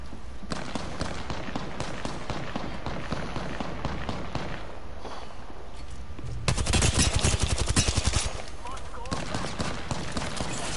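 Gunfire in the Apex Legends video game, with dense rapid automatic bursts throughout and a louder, faster volley near the middle, mixed with other in-game sounds.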